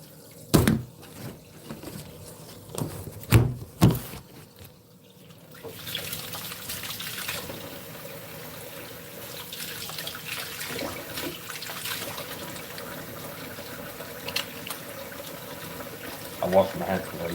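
Tap water runs into a sink during handwashing with soap, a steady broadband wash that starts after a few loud clunks and continues for most of the clip, with some faint speech.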